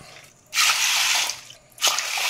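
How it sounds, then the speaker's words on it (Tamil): Water is poured into a plastic bowl in a home kitchen in two splashing bursts, loud and close, with a short pause between them. "தண்ணி ஊற்றி வச்சிடலாம்."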